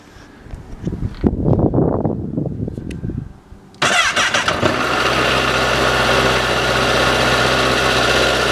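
A standard Honda CBR1000RR Fireblade motorcycle engine is started from cold: a few seconds of cranking and uneven sputters, then the engine catches sharply and settles into a loud, steady, close-up idle.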